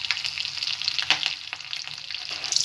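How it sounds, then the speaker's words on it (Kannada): Green chilies frying in hot oil with mustard seeds and cumin, a dense close crackling sizzle with small pops and a stir or two, heard alone. "ಹಾಕೊಂಡು ಲೈಟಾಗಿ ಒಂದು ಫ್ರೈ ಮಾಡ್ಕೊತಾ ಇದ್ದೀನಿ"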